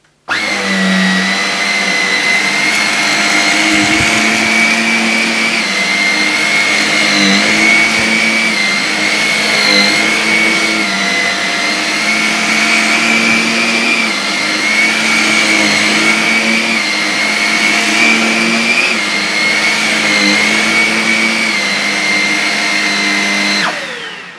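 A loud, steady motor whine of a Shark Rocket NV480 True Pet upright vacuum cleaner runs continuously, with slight pitch shifts as it moves, no voices.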